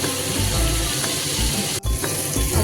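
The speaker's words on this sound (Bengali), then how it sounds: "মশলাটাকে একটু ভালো করে কষে দিতে হবে।" Spice paste frying in a pan for a Bengali prawn, potato and pointed gourd curry, a loud continuous sizzle with a brief dip as it is stirred.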